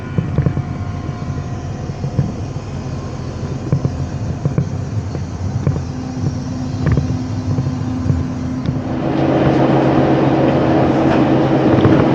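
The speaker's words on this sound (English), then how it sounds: "just waiting for the train to leave" A train idles at a station with a steady low mechanical rumble and hum, growing louder and broader toward the end as the engine revs up.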